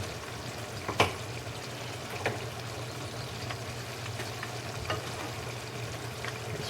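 Zereshk (barberries) being gently moved around a frying pan, giving a steady low sizzle with a few soft scraping clicks from the stirring, close and alone with no talk.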